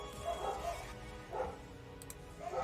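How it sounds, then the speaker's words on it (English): Puppies bark in a few quick, faint yips, spaced out in a short rhythmic pattern at a distance. "You hear those puppies barking?"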